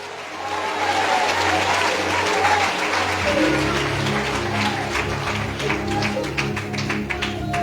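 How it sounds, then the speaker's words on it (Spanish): Loud applause from a church congregation for a pastor, dense clapping from many hands filling the space, with a low hum and a rhythmic tapping pattern joining partway through. "Fuerte aplauso"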